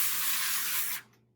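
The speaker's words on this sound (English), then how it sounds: "I'm going to spray this big pan down" A short, steady hiss of cooking spray coating a large bread pan, close and continuous for about a second before cutting off abruptly.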